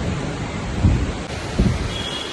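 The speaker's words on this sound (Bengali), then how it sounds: "প্রচুর বৃষ্টি আরম্ভ হয়ে গেছে" Steady, dense rain hiss at a metro station in Bangalore fills the clip, with two brief low rumbles rising out of it; no voices.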